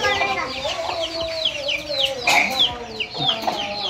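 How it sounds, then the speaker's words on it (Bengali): A brooding hen clucking while sitting on eggs on a village farm, a run of close, repeated throaty clucks with a few louder calls partway through. "মুরগি ডিম নিয়ে বসে আছে"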